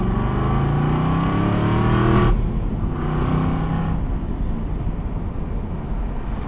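A supercharged 600 hp Aston Martin V8 Vantage engine revs loud and close, climbing in pitch before a sharp shift, then settling into a steady throaty drone.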